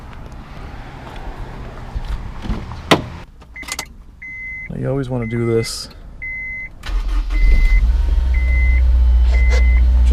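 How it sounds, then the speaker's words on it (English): A low-mileage AP2 Honda S2000 engine cranks and catches near the end, settling into a loud, steady low idle after someone talks over quieter moments with a few chimes and beeps. "we're going to start up the car"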